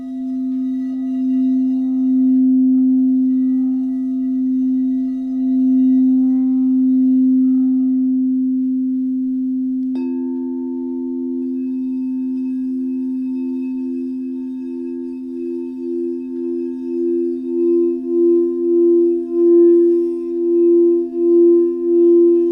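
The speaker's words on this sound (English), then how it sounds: "The bowl related to the root chakra is usually the largest bowl you'll see when you walk into a room for a sound bath. It's a big, deep sound." A large root chakra singing bowl rings with a deep, sustained hum. Partway through, a second, higher bowl tone joins it, and the combined sound pulses in slow, wavering beats.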